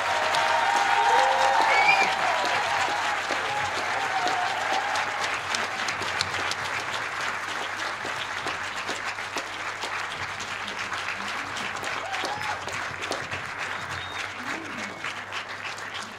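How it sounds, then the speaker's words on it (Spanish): A live event crowd applauds loudly with dense, sustained clapping that starts strong and continues steadily, with a few cheers and voices mixed in. "Heu d'aplaudir però molt fort"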